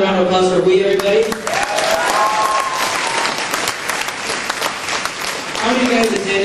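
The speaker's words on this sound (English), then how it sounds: "Another round of applause for we, everybody." A gala banquet crowd breaks into sustained applause, many hands clapping at once for several seconds, with a speaker's voice heard briefly before and after.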